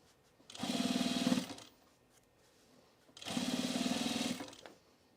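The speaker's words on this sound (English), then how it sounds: "So this is why I'm choosing to sew on the print side, because this is where my stitching might be the most visible." A sewing machine stitches the printed side of a fabric bowl cozy in two separate bursts of steady, close, buzzing whir, each about a second long, with a short quiet pause between them.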